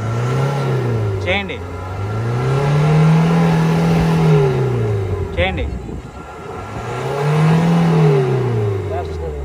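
A Ford car engine revs hard in repeated long swells, rising and falling roughly three times, loud and close, while a man calls out briefly over it.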